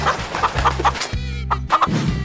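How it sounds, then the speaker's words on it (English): A cartoon hen in a funny animal game clucks in a quick series of short, bright calls over a steady musical backing. "chicken,"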